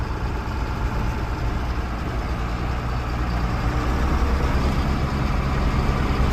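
A 1992 John Deere 4055 tractor engine running in high gear: a dense, steady diesel drone close by, holding constant with a slight rise in intensity, with no talk.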